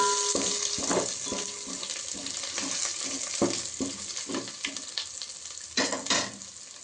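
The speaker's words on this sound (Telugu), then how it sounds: "మంచిగా ఇది వేగితే బాగుంటుంది ఫ్రెండ్స్. మంచిగా ఫ్రై చేసుకోవాలి." Homemade coriander powder fries in a pan with a soft steady sizzle. Repeated scraping stir strokes cut through it close by, and no one talks.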